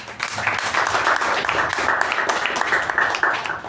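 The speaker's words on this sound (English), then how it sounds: "Can we give them another round of applause?" Members at a Toastmasters club meeting give another round of applause for the role takers: a moderate, continuous patter of many hands clapping from a small room audience, sustained without pause.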